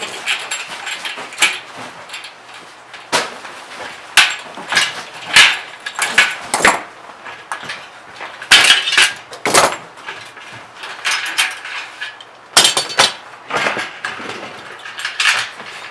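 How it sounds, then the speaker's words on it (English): Metal clamps being pried off a copper still cone: a string of irregular sharp metallic clicks, clanks and scrapes, close and moderately loud, spread across the whole span. "once it's cooled off, you can start taking the clamps off"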